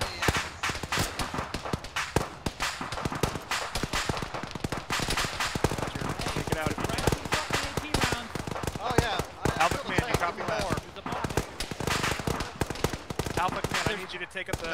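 Dense, continuous gunfire from a military shooter game, Arma, in a ShackTac squad battle: rapid machine-gun bursts and single rifle cracks overlapping, loud and close, with voices talking over the shooting.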